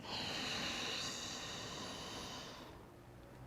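A single long, deep inhale through the nose during a guided breathing meditation, breathy and close, rising and then slowly fading out over a few seconds.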